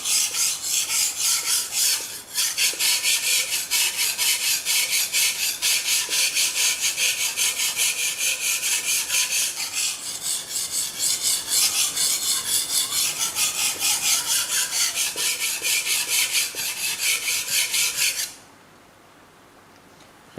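A Japanese nakiri knife blade is sharpened on a whetstone, giving a steady rhythmic rasping scrape of close back-and-forth strokes that runs for about eighteen seconds before stopping abruptly.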